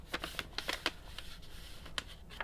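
Paper being creased and folded by hand into an origami box, a series of quick crisp rustles and taps close up, irregular and brief, with no talking.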